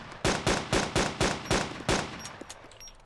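Eight evenly spaced gunshots ring out as the last magazine is emptied in DayZ Epoch. The shots are loud and sharp, followed by a few faint clicks and ambient noise, with no talking.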